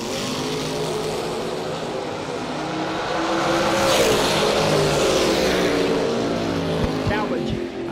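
A bracket-racing truck roars down a drag strip, its engine a loud sustained drone that swells in the middle and carries on steadily, with faint crowd and announcer talk beneath.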